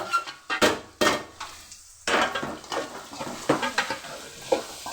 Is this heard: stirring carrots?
yes